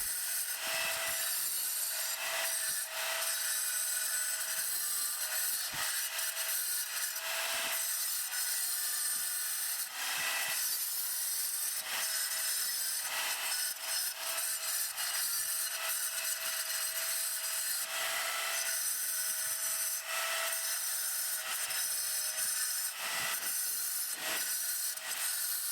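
A wet tile saw carves slate into a bear shape, working slowly in tight spots between the legs, giving a steady, loud high-pitched grinding and rasping that runs continuously with brief dips.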